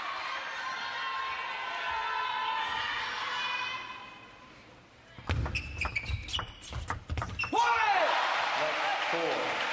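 A table tennis crowd at the WTT Champions Yokohama men's singles quarterfinal cheers in a sustained, swelling roar that fades, then gives way to sharp, rapid ball and paddle impacts and renewed crowd noise, while a commentator talks.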